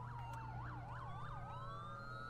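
Police car siren in a FiveM role-play game, a close, loud wail cycling rapidly up and down several times before holding a steadier tone over a low engine drone.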